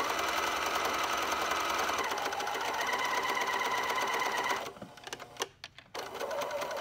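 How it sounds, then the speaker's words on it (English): A sewing machine runs a zigzag stitch to close a hole in fabric, a loud steady mechanical whir that carries for several seconds, then slows into stuttering bursts and stops before restarting briefly. "So we're going to sew this hole closed with a zigzag stitch."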